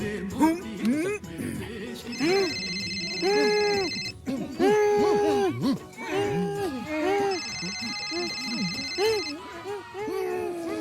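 A telephone rings in two repeated bursts in a Bollywood film scene, its ringing tone set against a musical score with people talking over it.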